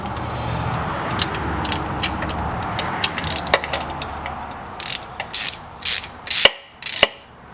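A ratchet works the thermostat housing bolts on a 2002-era B6 Audi A4 1.8T, a series of sharp clicking bursts at close range, growing louder and more spaced toward the end.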